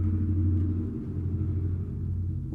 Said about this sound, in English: Loud truck, right?